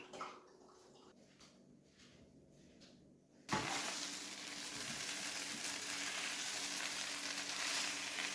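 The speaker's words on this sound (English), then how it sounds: "Pan fried turnip with some onion and turnip greens." Turnip pan-frying with onion and turnip greens: a quiet start gives way at about 3.5 seconds to a loud, steady broadband sizzle that holds to the end.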